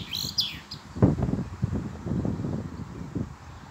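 A European robin chirps during a storm, its short high calls coming through gusting wind noise and rustling leaves.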